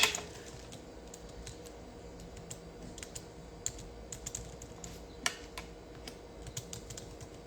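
Steady typing on a computer keyboard while entering a message into a chat, with irregular clusters of crisp key clicks close to the microphone and no talking.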